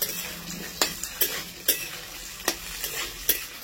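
Diced potatoes and carrots fry in a pan with a soft steady sizzle, punctuated by sharp scraping clinks of a spatula stirring against the metal every second or so.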